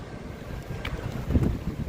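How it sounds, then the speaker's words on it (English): Steady rushing wind at Niagara Falls buffets the microphone with low rumbling gusts at night, swelling a little stronger toward the end. "But it's very windy."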